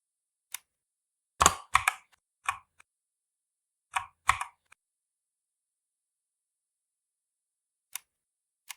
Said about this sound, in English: in the search let's type shut